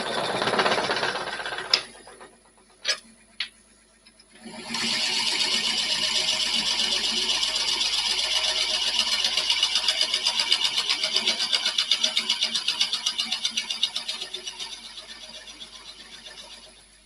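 A drill bores into wood with a sustained, loud buzzing whine lasting over ten seconds, preceded by a few knocks and a short quiet stretch, then fading at the end.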